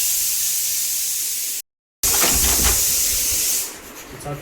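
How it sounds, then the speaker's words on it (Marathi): A pressure cooker lets out a loud, steady hissing whistle, briefly cut off, then resuming before trailing away. "कुकरचे शिट्या होत आहे"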